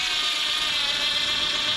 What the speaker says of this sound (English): I just got to screw down the inverter now.